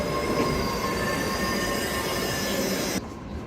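Train running on rails: a loud, steady, close rumble layered with high, sustained wheel squeal that cuts off sharply near the end.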